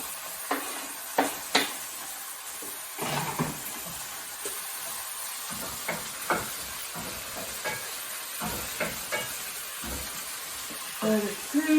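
A spoon stirring bean chilli con carne in a pan, with intermittent scraping knocks against the pan over a low sizzling hiss; a voice speaks faintly in places.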